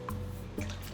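Liquid whole milk drips and splashes softly into a mixing bowl of pancake ingredients, two faint wet plops in a quiet kitchen.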